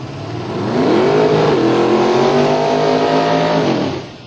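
A 2002 Camaro drag race car with a big nitrous-fed 870-cubic-inch engine revs loudly and steadily at a speedway, its roar rising and sustained for several seconds before easing off.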